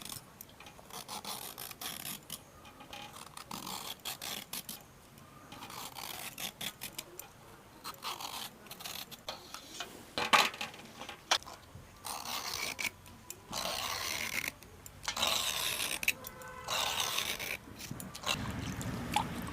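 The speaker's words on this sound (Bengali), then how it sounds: "একে একে সব ঝিঙেগুলোর শির আমি ফেলে নিলাম।" Ridges are scraped one by one off ridge gourds with a handheld peeling tool in a village kitchen, producing repeated short rasping strokes in uneven bursts, close and fairly quiet, with no voices.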